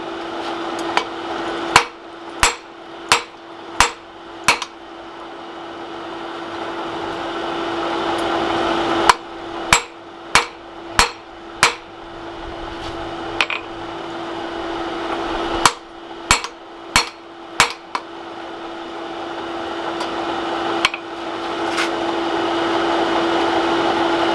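Hammer drawing out a taper on a forged millpick, sharp ringing blows in three separate runs of about five evenly spaced strikes each, close and loud over a steady mechanical hum.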